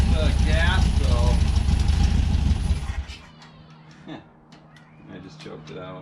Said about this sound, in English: started the motor up, had to prime the bowl again to get the car to start